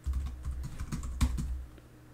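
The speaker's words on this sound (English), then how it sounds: "Now my erratic typing comes to bite me in the butt" Fast, uneven typing on a computer keyboard during an online geography quiz, with rapid keystrokes close by and a slightly harder tap near the end.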